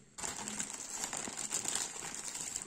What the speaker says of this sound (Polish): Jakieś kolejne papierzyska.